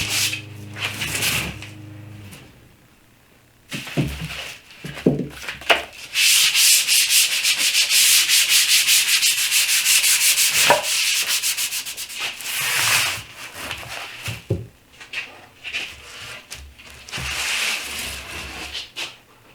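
Plywood being sanded for an epoxy coffee table with plywood legs, loud abrasive rubbing strokes in bursts with pauses, close and uninterrupted by speech.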